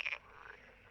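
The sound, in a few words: frogs croaking near sandpit ponds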